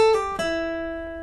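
Acoustic guitar lick, notes plucked in quick succession with a smooth pull-off, the last note ringing out cleanly on its own.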